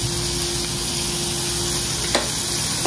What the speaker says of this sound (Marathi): ह्याला पण आता टोमॅटो आपला नरम होईपर्यंत मिक्स करून घेऊ